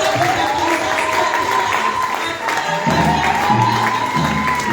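Church congregation acclaiming and cheering at a worship service, a loud continuous wash of crowd voices and shouts, with a sustained sung or shouted tone running through it and some clapping near the end.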